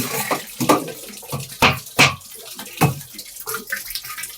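Water is poured into a container and stirred to mix in jaggery for a homemade natural fertilizer, heard as splashy sloshing bursts in an uneven rhythm, close and fairly loud with no talking.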